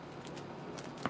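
Soft, close snipping of scissors cutting through a paper napkin, a few quiet crisp cuts over faint background hiss.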